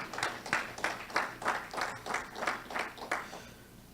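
Church congregation claps in unison for the Lord, about ten evenly spaced rhythmic claps at a moderate tempo, somewhat distant and soft, fading out at the close.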